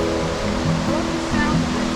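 Cold mountain creek water rushes in a steady, close broadband wash, continuous and even, with no other sounds breaking through.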